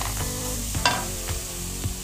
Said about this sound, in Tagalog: haluin lang siya ng haluin hanggang sa maluto yung noodles